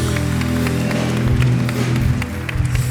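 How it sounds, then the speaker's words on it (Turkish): Studio audience at a Turkish TV talk show claps over loud music, scattered clapping mixed with the music throughout. "Bir alkış kocaman alkış Masum Kırmızı'ya."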